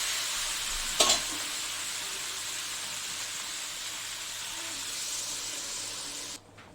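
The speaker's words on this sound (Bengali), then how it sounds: "এবার চিংড়ি মাছটা দিয়ে দেবো তারপর একটু নেড়েছে" Prawns tipped into masala in a pan and stirred, giving a loud steady hissing sizzle with one brief clatter near the start, cutting off abruptly at the end.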